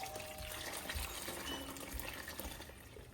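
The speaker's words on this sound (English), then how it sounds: "as you pour, you want to be mixing" Boiled water is poured into millet porridge for Hausa koko while it is stirred, producing a steady close-up gush and splash of liquid with light scraping from the mixing throughout.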